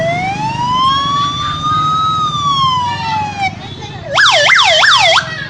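A voice imitating a 108 ambulance siren, one long rising and falling wail followed by quick repeated whooping cycles, loud and close.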